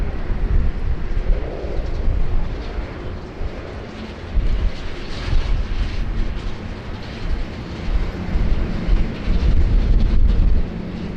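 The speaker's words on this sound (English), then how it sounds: "Engines always sound better in the rain, I don't know why." Airliner jet engines roaring at Sydney Airport in the rain, a loud continuous low rumble with a hissing wash over it, swelling and easing slightly, with no voices.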